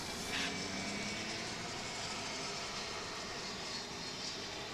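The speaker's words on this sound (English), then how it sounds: "Another regional jet." A regional jet at DFW International Airport roars steadily throughout, a broad, loud engine rumble that stays constant with no voices over it.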